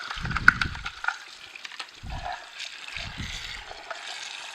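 Water runs and trickles through the rinsed parts of an Omega Sana EUJ808 juicer, a soft steady stream with a few louder low splashing bursts, close by and with no talking.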